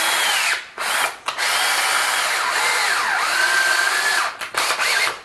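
A power drill spins two lengths of Romex cable clamped in a vise, twisting them together with a loud, steady whine broken by a couple of brief pauses and restarts.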